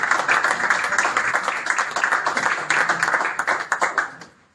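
A crowd at a cricket club's annual awards show gives loud applause for a young debutant player, dense clapping from many hands that holds steady for several seconds, then thins out and stops.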